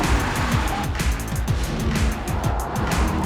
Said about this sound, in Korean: 자, 코너 들어갑니다. 브레이킹.